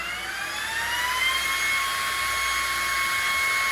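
A Ryobi One Plus cordless vacuum cleaner runs steadily at close range, a loud high-pitched motor whine with rising tones that settle into a constant roar, no voices.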